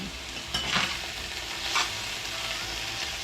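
Chicken pieces stir-frying in a hot pan give a steady, close sizzle, with two brief louder scraping stirs rising above the constant frying hiss.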